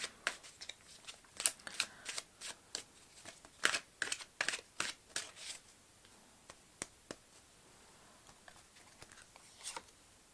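Tarot cards are shuffled in a series of quick, soft flicks and slaps, close and quiet, in irregular bursts that thin out toward the end.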